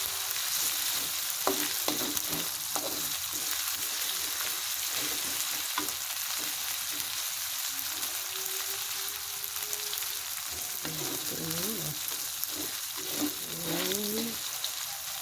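Meatballs, chillies and vegetables fry in a pan, giving a constant soft sizzle under frequent stirring scrapes and light taps of a spatula, close by with no voices.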